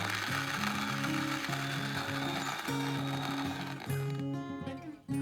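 An Outin Fino portable electric coffee grinder grinds beans on an espresso setting at a racetrack, giving a steady whirring, ratcheting mechanical drone that runs for several seconds and drops away briefly near the end.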